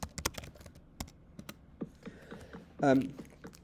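Keys on a computer keyboard clatter in a short burst of typing, with a few scattered taps after it, while an agent is given a command in Minecraft; a brief louder voiced sound comes near the end.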